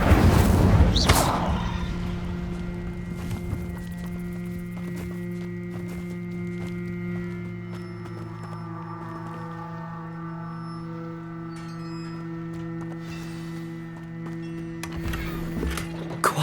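Horse-drawn carts in Hogwarts Legacy roll past with steady clip-clopping hooves and rumbling wheels, a louder thud at the start and a low sustained hum beneath, no speech.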